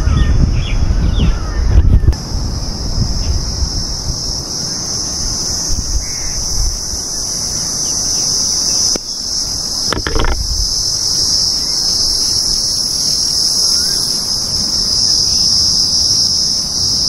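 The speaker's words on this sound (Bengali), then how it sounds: "শুনতেই পাচ্ছেন ঝিঝি পোকার আওয়াজ" Crickets chirp in a dense, steady, high-pitched drone that runs unbroken through the whole stretch, with soft rustling and wind-like low noise underneath, outdoors near a sea beach at Bakkhali.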